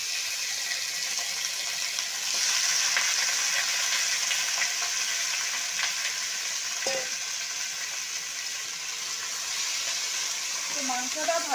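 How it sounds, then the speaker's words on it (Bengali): Chicken pieces fry in oil left over from frying potatoes, a steady loud sizzle throughout with occasional stirring clatter and a brief faint voice near the end. "তো আলু ভাজার তেলটাতে এবারে মাংসগুলো ভেজে নেব।"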